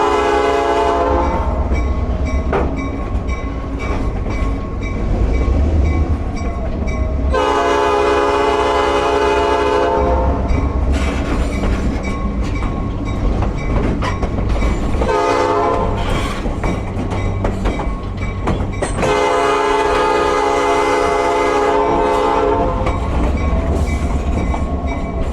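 A Lehigh Gorge Scenic Railway train, ridden from the caboose, rumbles along steadily while a loud horn sounds in two long blasts, one in the middle and one later, over continuous rail noise.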